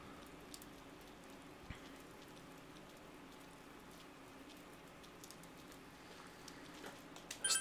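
Rain falls in the video game Persona 4 Golden as a faint, steady patter, with a few soft drops standing out and a brief louder sound at the very end.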